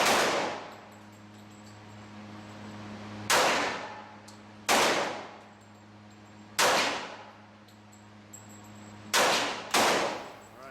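Five loud, sharp gunshots from a .45 pistol fire at uneven intervals. Each crack rings out with a reverberant decay over a steady low hum.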